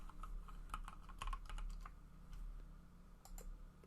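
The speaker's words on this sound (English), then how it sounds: "I'm going to type in spine." Fingers tap at a computer keyboard during 3D rigging work, a short run of light, close clicks over a low steady hum.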